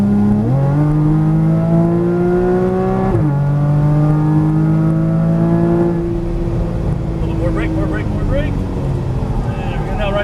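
A Porsche Cayman GTS engine accelerating on a race track, loud and close from inside, its revs climbing, dropping briefly at a shift and climbing again before easing, with a voice coming in toward the end.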